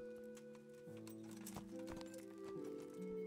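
A horse is ridden in the medieval video game Kingdom Come: Deliverance, hooves clip-clopping in an uneven rhythm at moderate distance, fairly quiet, over a sustained musical drone.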